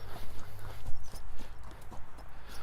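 A gaited horse walking, its hooves striking in a steady, even four-beat clip-clop, close and fairly loud with a low rumble beneath and no talking.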